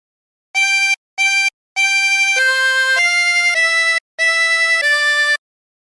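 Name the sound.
chromatic harmonica playing a phrase of Hark The Herald Angels Sing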